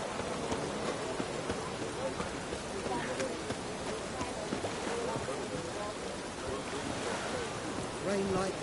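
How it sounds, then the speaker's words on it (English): Steady rain in The Witcher 3 on PS5, a constant dense hiss pattering throughout, with game character voices speaking over it. "It's raining again."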